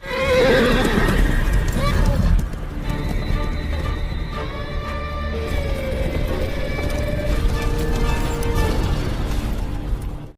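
Horses neigh and hooves clip-clop in a samurai film scene: a loud whinny opens, then further drawn-out neighs follow over the hoofbeats, with a voice speaking over them.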